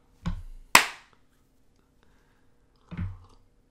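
A couple of sharp hand claps in a quiet room, one soft and one loud and crisp close together, followed by another clap a couple of seconds later, with faint voices nearby.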